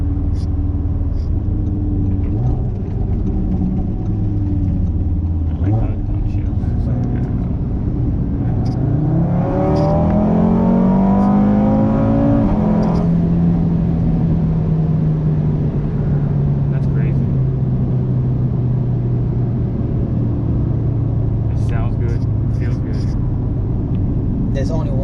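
An Audi RS3 family car on a dyno run, its engine droning steadily, then revving hard with a rising whine that peaks and settles into a long falling tone, loud and close throughout under occasional voices.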